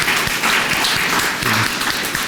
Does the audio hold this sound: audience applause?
yes